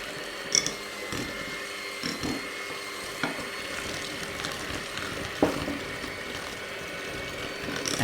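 An electric mixer beats an egg into cake batter in a bowl, giving a steady low whir with scraping and a few sharp knocks against the bowl. The sound is close and no one speaks.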